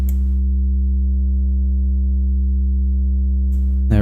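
A synthesized sub bass tone held steadily and loudly, with odd harmonics being added to thicken it toward a squarer timbre, the higher partials appearing near the end; no voices.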